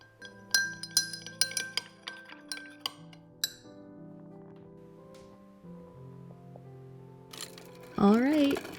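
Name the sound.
stirring Vietnamese iced coffee in a glass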